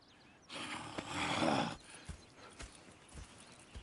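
A horse's hooves clop on the ground in Red Dead Redemption 2, with a burst of louder movement, a brief snort and scattered hoof thuds afterward.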